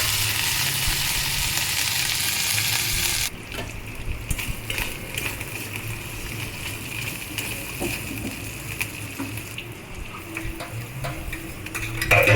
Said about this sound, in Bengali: এবার দিয়ে দিলাম পেঁয়াজ বাটা, দিয়ে মশলাটা আমি ভালোভাবে কষিয়ে নেব।